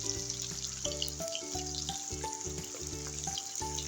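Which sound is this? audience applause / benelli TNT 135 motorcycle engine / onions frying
onions frying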